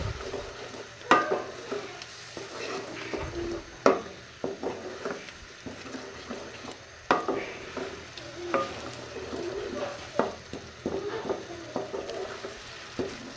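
Spices frying in a pan for restaurant-style cholay (chickpea curry), a steady sizzle broken by scraping and clinking spoon strokes against the pan, close up and irregular, with no talk.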